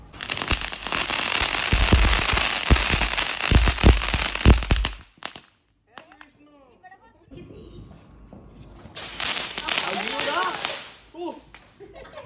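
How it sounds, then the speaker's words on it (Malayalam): Firecrackers for the Vishu festival crackle in a dense, loud rapid string of pops that breaks off suddenly, followed by voices and then another burst of crackling. "ആദ്യം നമ്മൾ കൈനീട്ടത്തിന് മുന്നേ ഒരു പടക്കമൊക്കെ ഒന്ന് പൊട്ടിച്ചു"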